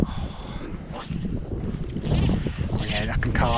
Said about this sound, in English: I knew it was windy before I came out.